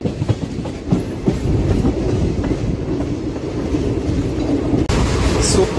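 The 12787 Nagarsol superfast express on the move, heard from inside a coach as a loud, steady roar with rhythmic clickety-clack of wheels over rail joints, continuing throughout with a brief dip near the end.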